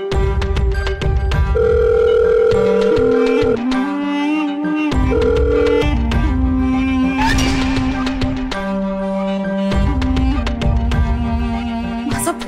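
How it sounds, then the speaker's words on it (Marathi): A phone call goes unanswered while electronic ringing tones repeat in steady held bursts with short gaps, clear and alone. "माझा फोन कट करतीये ही"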